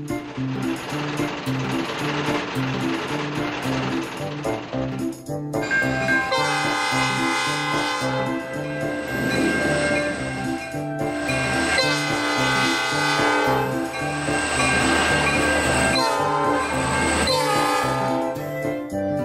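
A model diesel locomotive pulling a caboose on a test run, with continuous close mechanical whirring and rattling along the track and loud sustained horn blasts sounding repeatedly over the running noise.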